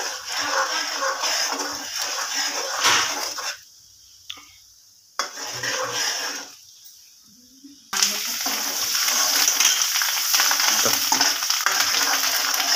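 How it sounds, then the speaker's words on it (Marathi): Masala being stirred as it fries in oil for a crab curry, a bright sizzling hiss with scraping stirs that drops out briefly twice before resuming louder and steady, with a voice speaking in places. "तेल ओतलाय मसाला टाकलाय आता या हलवू राहिलो ना"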